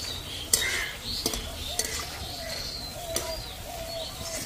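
Gram-flour boondi batter fries in hot oil with a steady, close broadband sizzle, and a few sharp clicks and taps rise over it.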